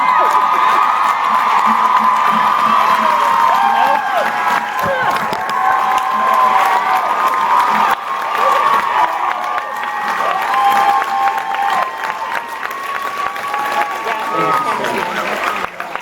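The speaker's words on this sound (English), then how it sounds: "Give her the proper round of applause" A large crowd cheers, whoops and applauds for Stephanie at a 2017 Hawaii gathering, a loud, sustained roar with shouts on top that carries on for the whole stretch.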